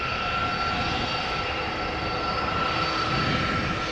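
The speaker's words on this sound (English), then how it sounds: "What you're hearing is Delta Airlines Flight 162" A Delta Airlines jet, Flight 162 from Minneapolis, roars steadily just after landing on Schiphol's Polderbaan runway. The loud, unbroken engine rumble and whine holds at even strength throughout with no voices.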